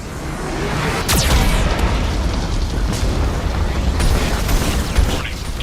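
Geth cannon blasts in Mass Effect: Legendary Edition, a loud continuous roaring rumble with a couple of sharp sweeping bursts cutting through, close and dense throughout.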